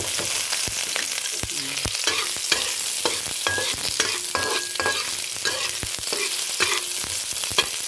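Garlic sizzles steadily in a hot pan while a utensil scrapes and stirs, giving a loud, continuous frying hiss with intermittent knocks and clinks.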